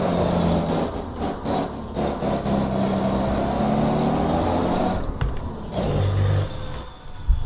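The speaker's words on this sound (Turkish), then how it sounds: "Araba zorlanıyor vallahi araba çıkarken." A Mercedes 2521 truck with 1.5 million km on it labours uphill in first gear, its diesel engine droning loud and steady with a slowly rising, strained pitch and no talk.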